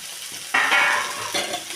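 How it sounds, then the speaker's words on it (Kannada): Garlic, cashews, coriander leaves and mint frying in a pan, a short close sizzle that flares up suddenly, fades, then flares again briefly with stirring, no talking. "ಇದನ್ನು ಚೆನ್ನಾಗಿ ಫ್ರೈ ಮಾಡ್ಕೊಳ್ಳಿ."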